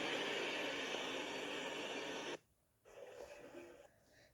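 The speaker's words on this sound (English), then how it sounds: "And this is the Manrose hand dryer, which is pretty rare." A Manrose electric hand dryer blows with a loud steady whoosh, cuts off abruptly, then a quieter airflow resumes briefly.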